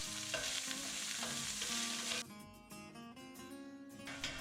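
Garlic and fresh corn cooking in olive oil in a pan: a steady, close sizzle with scraping stirs throughout, then a brief quieter spell before the frying swells again, with no talking.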